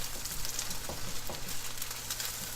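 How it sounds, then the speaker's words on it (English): Eggs sizzle and crackle in hot coconut oil with coconut flakes in a pan, the steady frying broken by soft, repeated scraping strokes as they are scrambled. No one speaks. "you're just literally gonna scramble them up right in the pan"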